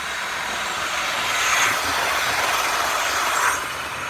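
A Hornby Midland Pullman HST model train fitted with a sound decoder runs at a steady pace, then its engine note swells as the throttle opens, giving a continuous, fairly loud hum with no voices.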